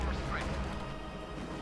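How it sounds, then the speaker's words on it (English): In Company of Heroes 2, tanks crash through trucks and foliage beneath their tracks: a dense, continuous crunching smash with a loud rumbling low end. "Crashing trucks and foliage beneath their tracks as they advance"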